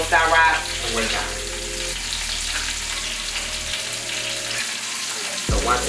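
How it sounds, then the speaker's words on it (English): Onions caramelize in a pan on the stove for chicken wraps, giving a continuous close sizzle and crackle with occasional stirring movements and a brief clatter near the end, no speech. "move these onions around in this middle. And you can see them caramelizing all the way down."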